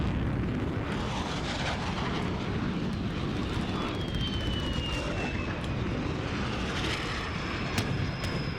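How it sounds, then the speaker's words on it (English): Video-game aircraft, an enemy VTOL, roars overhead in a steady, loud drone with a faint whine gliding across it, alongside distant rumbling. "Waiting for this blasted aircraft to clear."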